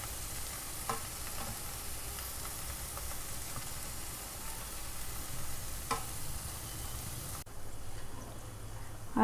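Potatoes and raw bananas sizzle steadily in a hot pan, a close, continuous crackle of frying with a brief clatter near the end.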